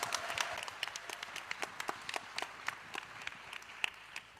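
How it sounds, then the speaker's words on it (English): A plenary audience at a social work conference applauds, scattered distinct claps rising from a moderate, fairly distant crowd, with individual hand strikes popping out, and no speech. "let's give Willeke a huge round of applause"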